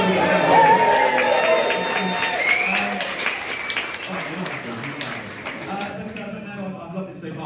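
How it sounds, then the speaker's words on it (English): Audience applause fills a stand-up comedy show at Tooleys Boat Yard in Banbury, a steady wash of many hands clapping with some cheering, loudest at the start and slowly thinning out. "So give yourself a round."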